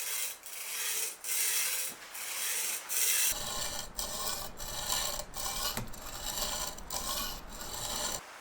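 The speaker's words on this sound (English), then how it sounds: "when you sharpen a convex knife, that you have a certain length where the stone hits the edge" A knife edge is sharpened on a stone using a TSProf Kadet Pro guided system, producing repeated rhythmic rasping strokes, each a short scraping pass, fairly close and steady with no voices.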